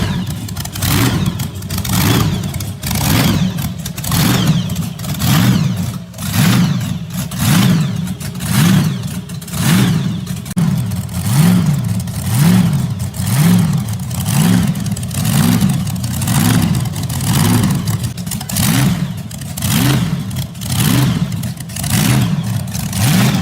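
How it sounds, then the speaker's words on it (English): A vintage 1950s drag engine with a Roots supercharger and polished intake stacks idles loud and close, its lumpy, rhythmic pulsing rising and falling in repeated revs. "this vintage engine now breathes through polished stacks, delivering brutal low-end torque and a thunderous idle"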